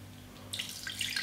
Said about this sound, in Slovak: vodu takto pomaličky tam nalejem.